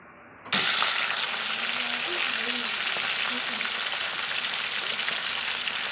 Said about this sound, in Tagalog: Guys, ito, magpripito ako ng isdang bugis.